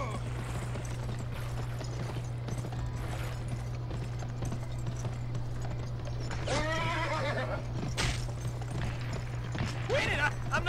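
A horse neighs loudly twice over steady galloping hoofbeats and a constant low hum, with ambient background throughout, in the video game Gun.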